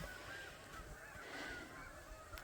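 Canada geese honk on a farm, several calls rising faintly out of steady wind or background noise across a short stretch.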